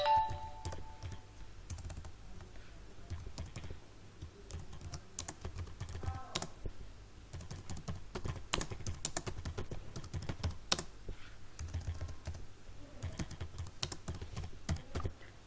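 Steady computer keyboard typing runs throughout, with dense irregular key clicks and occasional louder strikes while a C++ for-loop program is entered, no voices present.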